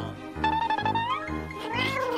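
A frightened kitten stuck high up in a tree meows in a short run of loud, close, high-pitched cries, one after another, over a steady low hum.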